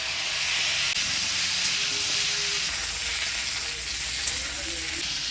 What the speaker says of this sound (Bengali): ঢাকা দিয়ে আলু পটলটা ভালোভাবে ভেজে নিই